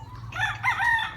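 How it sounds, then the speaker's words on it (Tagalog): A rooster crows once, a loud drawn-out call that rises and holds over a low steady hum in the background. "So, yan, ang ganda ng manok ni Kapipi."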